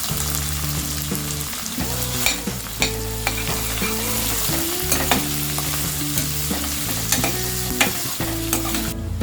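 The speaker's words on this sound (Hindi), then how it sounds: "दो मिनट अनियन फ्राई होने के बाद" Finely chopped onions frying in a pan with crushed garlic for Maharashtrian valache bhaat make a loud, dense sizzle, with repeated spatula scrapes and clinks throughout, close to the pan.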